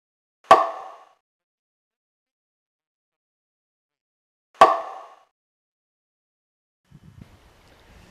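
Small moose antler knocked against a tree to imitate a bull moose: two sharp, hollow woody knocks about four seconds apart, crisp and close in quiet woods, followed by faint rustling.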